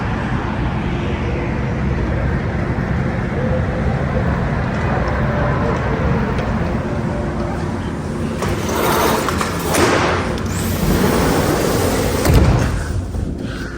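City noise pours in through an open sliding door of a home in Washington DC, a loud, constant roar of traffic with a passing vehicle swelling near the end.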